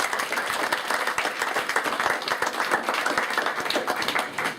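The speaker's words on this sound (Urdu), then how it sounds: "ہم ان کو بہت سی تالیوں میں خوش آمدید کہتے ہیں" An audience at a Naya Pakistan community event in Stockton applauds to welcome speakers, a loud, close, continuous burst of many hands clapping with distinct sharp claps standing out, steady to the end.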